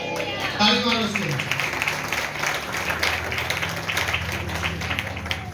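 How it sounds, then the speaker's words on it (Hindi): A church congregation claps along during a Sunday sermon, the steady rattle of many hands sustained throughout beneath a preacher's voice. "ताली मारो उसको"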